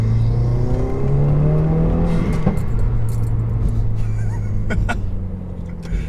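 A 2015-or-later Subaru WRX fitted with a Cobb intake pulls hard, its engine note rising steadily, then a few sharp pops from a backfire crackle out near the end, heard from inside the car.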